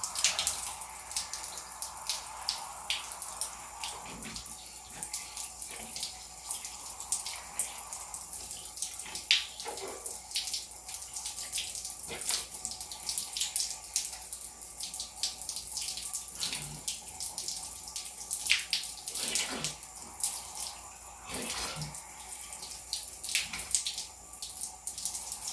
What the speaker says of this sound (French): Je vais laver mon visage avec le tea tree.